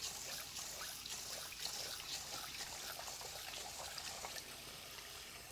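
Rice being washed in cold water, a quiet steady trickle and splash of running water with soft sloshing throughout, no voices.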